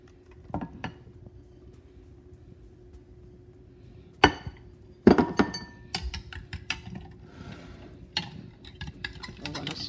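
Eggs stirred into a bread pudding mixture in a bowl, with irregular clinks and scrapes of a utensil against the bowl, mostly close and moderately loud over a quiet background hum.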